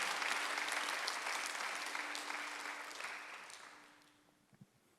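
A congregation at a Sunday worship service applauds with sustained, dense clapping that fills the room and then gradually fades out, leaving a few scattered claps at the end.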